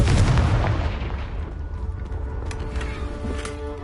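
The Confringo explosion spell in Hogwarts Legacy bursts with a loud boom at the start, then a low rumbling echo fades away, broken by a few faint pops.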